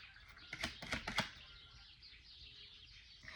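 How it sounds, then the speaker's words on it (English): A few quick wingbeats of a flock of geese flying overhead across a field, soft whooshing flaps with faint calls, fairly distant and quiet. "there's a flock of geese flying across the field in front of me"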